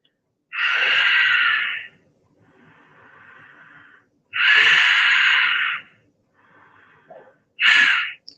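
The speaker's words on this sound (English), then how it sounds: "Three breaths here." Three slow, deep breaths during a wrist and finger stretching exercise in a morning routine, each long airy inhale or exhale standing out close and loud, with softer breathing between them and no talk.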